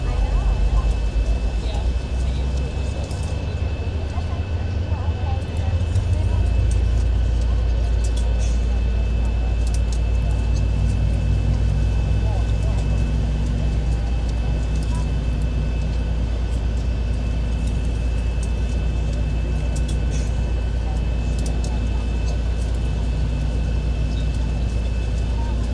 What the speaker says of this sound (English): Engine is starting up.